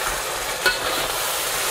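Crab tossed in a hot wok with lemongrass and sweet chili sauce gives a close, steady sizzle, with one brief scrape or clatter of the toss in the middle.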